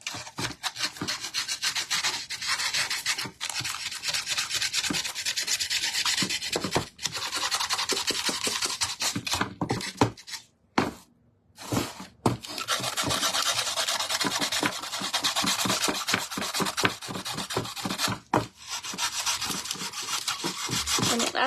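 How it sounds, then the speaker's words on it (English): Fine sandpaper rubs over a wooden shelf to distress it, a close, steady rasping scrub in long back-and-forth strokes with a few brief pauses, no talking. "I'm going to take a little bit of sandpaper and I'm just going to, we're going to just kind of distress this a little bit more"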